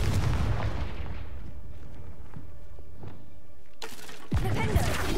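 Confringo fire spell detonating in a Harry Potter video game, a loud booming blast with rumbling low end, a sudden cut to quiet, then a second sharp burst near the end.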